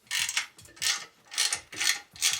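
A hex tool works the tank-mount screws on a Harley-Davidson 48 motorcycle, giving five or six rhythmic ratcheting, grinding turns in quick succession, close up, each burst separated by short pauses.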